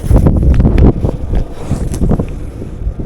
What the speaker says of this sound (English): windy out there, so it's pretty ventilated.